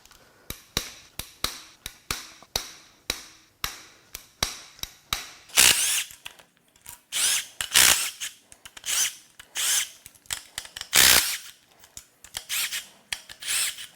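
Rocker arm bolts on a failed GM 6.2 L87 V8 engine are loosened with a power tool in a garage, sounding as a rapid series of sharp ratcheting bursts and short whirring runs, close and distinct, with brief gaps between them.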